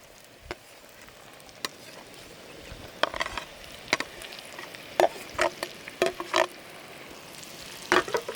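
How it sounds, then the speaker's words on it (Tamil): Fried potatoes are stirred into a frying pan of oil, masala and garlic, with soft sizzling under a series of scraping and clacking stirring strokes that grow more frequent. "நம்ம ஃப்ரை பண்ணி வச்சுருக்கோம் இல்லையா உருளைக்கிழங்கு, இதையும் உள்ளே போட போகிறோம்"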